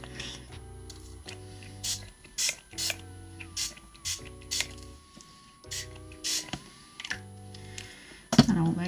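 A pump spray bottle of water is primed with repeated short sprays in a regular rhythm, each a sharp hiss with a brief mechanical pump sound between, ending with a louder clack.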